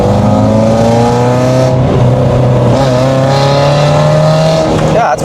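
A rebuilt Toyota Altezza engine revs hard, giving a loud, raspy roar with rising and falling pitch sweeps through several throttle blips, close up and continuous throughout.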